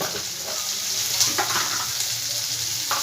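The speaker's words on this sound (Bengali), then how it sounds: "ভালো করে এটা একটু অল্প একটু ভেজে নেব।" Close, continuous frying hiss from a pan with a pinch of salt added, with light stirring and crackle throughout the short stretch.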